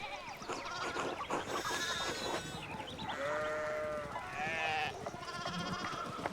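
Several sheep bleat in overlapping, wavering calls, fairly close, one after another over a low background rustle, in the video game Pentiment.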